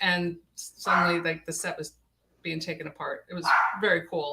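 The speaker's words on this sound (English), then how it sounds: "Sorry, that's my dog." A pet dog barking in the background during a spoken conversation, several sharp barks and yips mixed in with a woman's steady speech, fairly close and partly masked by the talking.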